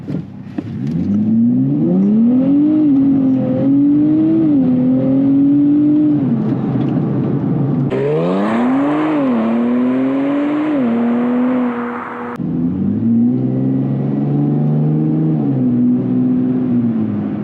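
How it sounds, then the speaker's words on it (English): A Nissan Z NISMO engine in Sport Plus mode revs hard and loud, climbing through gears in several rising surges with brief drops at each shift, close and steady with no talk. "it has a Sport Plus drive mode under the drive mode selector here. which gives it the absolute maximum that the vehicle can put out"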